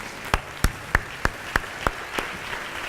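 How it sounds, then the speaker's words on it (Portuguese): A steady run of about seven distinct claps echoes through a church service at an even, deliberate pace, fading slightly toward the end against a quiet background. "Se coloque em pé e aplauda ao Senhor por esse dia"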